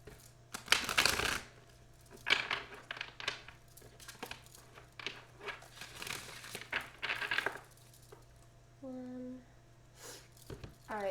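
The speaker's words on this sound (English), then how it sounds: "So I'm asked to shuffle these cards 3 times." A deck of Energy Oracle cards being shuffled by hand, several close bursts of riffling and flapping card sounds separated by pauses, with soft breathing and a brief tonal noise between them.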